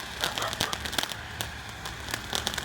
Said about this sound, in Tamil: தம்பி எப்படி பிடிக்கிறாரு பாருங்கள் கோடாலி பட்டாசு.